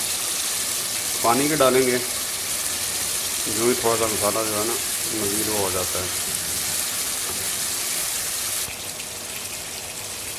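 Water poured into a pot of chicken curry (shorba) over a high flame, where the cooked masala is releasing ghee. A steady hissing sizzle runs under a person talking and eases near the end.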